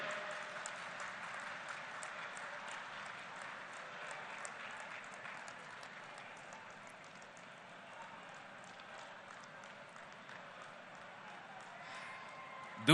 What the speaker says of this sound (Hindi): आप सबकी तरफ से करतल ध्वनि के साथ तालियों की आवाज